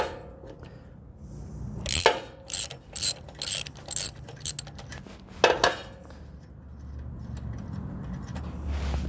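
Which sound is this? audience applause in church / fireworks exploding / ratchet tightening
ratchet tightening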